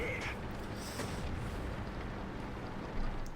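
A tank cannon fires in World of Tanks, a sharp booming shot right at the start that dies into a dense, rumbling battle bed with a second heavier thump near the end, with no speech over it.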